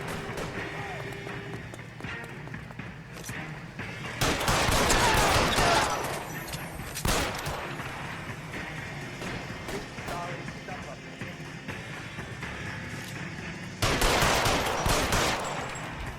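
Gunshots crack in L.A. Noire, a few sharp loud volleys separated by quieter stretches, with game dialogue voices talking in between.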